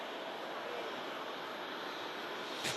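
Qatar Airways Boeing 787 Dreamliner taxiing at Manchester Airport, a faint, steady distant engine hiss and broadband drone, with a brief thump near the end.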